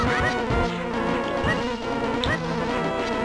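A wasp in the video game Zelda: A Link to the Past gives off a steady electronic buzz with repeated swooping pitch dips as it darts about, loud and continuous.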